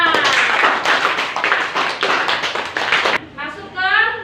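A school class in a classroom claps their hands together in a rapid burst of steady applause for about three seconds, then the clapping stops and a voice speaks.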